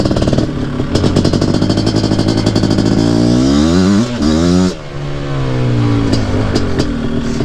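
A QuadZilla 250R quad's engine revs hard and loud nearby, its buzzing two-stroke note climbing and sweeping through repeated throttle blips, with a short drop before it settles back to a rough idle.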